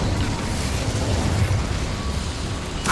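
Spell effects in the Hogwarts Legacy video game, with Incendio cast inside a boiler room: a dense, steady roar of fire and rumbling that runs for the whole stretch, loud and close, with a brighter burst near the end.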